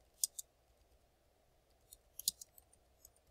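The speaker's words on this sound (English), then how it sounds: "Let me finish typing here." Typing on a computer keyboard: a few quick, sharp clicks in two short bursts separated by a pause, faint and close against a quiet room hum.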